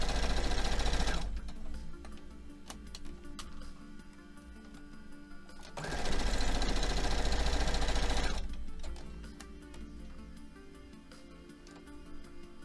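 A sewing machine stitches a quilt block in two loud, close bursts of fast mechanical whirring. Quieter stretches of low hum and light ticking fall between and after the bursts.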